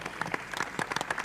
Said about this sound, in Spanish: Con este aplauso le agradecemos